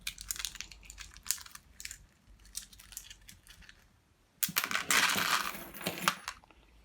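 Small metal screws salvaged from scrapped electrical plugs clink and rattle as they are handled in a pile, with scattered light taps early on, then a louder, dense burst of jingling, close up and with no talk.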